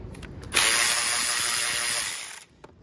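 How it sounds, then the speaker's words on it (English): A power tool spins out 10mm bolts on a 2014 Jeep Grand Cherokee SRT engine: one loud, close, continuous high whir of about two seconds, with light clicks of handling before and after, no talking. "And then we're gonna take the 10mm bolts out."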